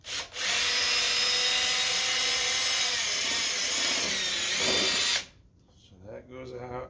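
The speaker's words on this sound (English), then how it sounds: "So I got a drill." A power drill drilling out pop rivets on a Maytag dryer whirs loudly and continuously for about five seconds, its pitch wavering slightly under load, then stops, followed by brief faint sounds.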